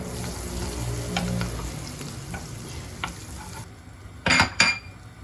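Butter with a little oil frying in a pan for an içli köfte sauce, a steady soft sizzle throughout with a few clinks of a utensil and two louder scraping stirs near the end.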